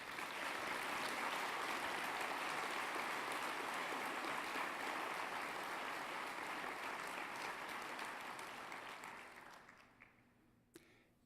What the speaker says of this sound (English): please have one more round of applause for Ruth Hendricks